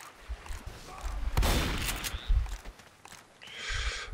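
Pistol shots in the video game Left 4 Dead 2, a few sharp cracks against quiet background game ambience and faint movement sounds.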